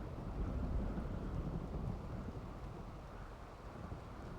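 Steady rain with a low rumbling thunderstorm in the video game Rimworld, a dense, continuous wash of noise that fades slightly over a few seconds.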